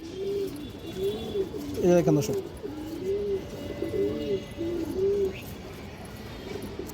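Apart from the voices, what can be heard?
pigeons cooing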